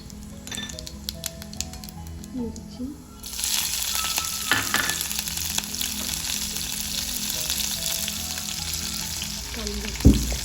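Hot oil sizzles and crackles steadily as cumin, mustard seeds and chillies hit the pan, a bright hiss swelling after a few seconds with a brief clatter near the end.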